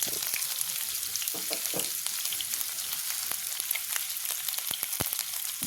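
Chopped onion with mustard seeds fries in hot oil, giving a continuous soft sizzle broken by scattered sharp pops and crackles, close and fairly quiet, without any voices.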